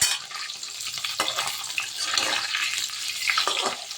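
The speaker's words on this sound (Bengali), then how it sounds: "সর্ষের তেল বসিয়ে দিয়েছি মাছ ভাজতে বসিয়ে দিয়েছি" Parshe fish frying in mustard oil gives a loud, bright, continuous sizzle and crackle with bursts of spattering, heard close up and alone without talk.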